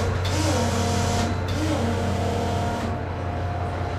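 A carbureted V8 fitted with a 950 CFM IRD carburetor on a 2-inch spacer revs up loudly and close by, its steady roar rising and holding for a few seconds with no talk over it.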